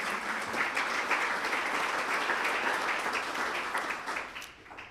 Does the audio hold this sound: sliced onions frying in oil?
no